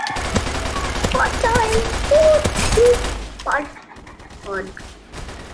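Rapid gunshots from the Roblox shooter Caliber crack in quick bursts and scattered single pops, loud and close, under a player talking over them.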